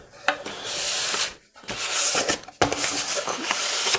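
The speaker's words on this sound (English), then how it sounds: "I'm just going to hit it one more time with 400 grit before putting on the 5th coat" A finished wooden side table is lightly sanded with 400-grit paper in a few back-and-forth passes, giving close, dry, raspy rubbing strokes with brief pauses between them.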